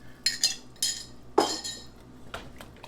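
Metal utensil scraping and clinking against a pan in a few quick bursts while stirring teriyaki sauce thickened with cornstarch slurry, close up, with soft kitchen background noise and no talking.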